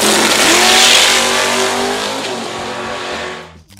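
A 1968 Dodge Dart Hemi drag racing car built for NHRA Superstock roars loudly at full throttle, a dense, sustained engine blast that holds steady and then fades away at the end.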